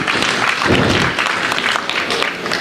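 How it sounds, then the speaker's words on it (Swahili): An audience claps for young people being given certificates at a county governor's youth program launch. Dense applause fills the whole short stretch, close and fairly loud, with faint crowd murmur underneath. "Tuwapigie makofi tafadhali"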